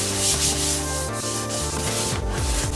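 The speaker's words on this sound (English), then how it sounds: "So we're going to go ahead and scrub it." Close scrubbing of a black leather car seat with cleaner, a brisk repeated rubbing and brushing texture in quick strokes, fairly loud and alone without speech.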